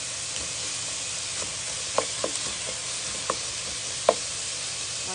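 Garlic and onion sautéing with pork in a pan, a soft steady sizzle with a few light clinks and scrapes of a utensil stirring, no voices.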